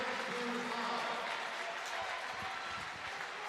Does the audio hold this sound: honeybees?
no